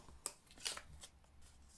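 Scored card stock is folded and burnished by hand, a few short papery swishes and rubs in quick succession, close and faint, with no talking.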